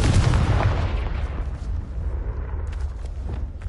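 In Hogwarts Legacy, the Confringo explosive spell goes off as a loud, heavy blast that hits at once and then rolls away into a lower rumbling tail, with no voice present.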